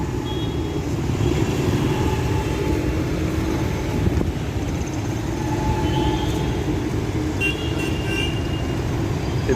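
A metro train passes by a busy city road, a loud, continuous rumble and rattle of rail wagons with faint high squeals and some wind buffeting the microphone.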